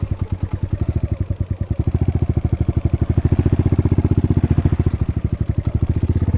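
A Kawasaki KLX140 trail bike fitted with a 170cc big bore kit and cam idles steadily close by, its single-cylinder engine throbbing in a fast, even, loud rhythm for the whole stretch with no talking.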